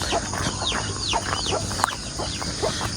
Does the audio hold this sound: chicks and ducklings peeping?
yes